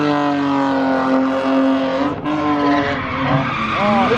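BMW E36 with a welded differential drifts sideways, engine roaring at high revs as tires squeal loudly in a long continuous screech with a brief dip midway, close and dominant.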